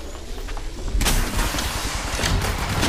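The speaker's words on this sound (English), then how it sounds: "Shots fired at me." Gunfire in the mobile shooter Apex Legends Mobile: after a quieter opening second, a dense run of loud, close shots and impacts rattles on without pause.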